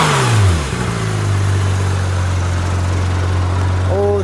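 A 2016 Porsche 911 GT3 RS revs, its engine pitch climbing at the start and then holding a steady, loud, close mechanical drone with strong induction intake sound, before a brief fresh rise at the end.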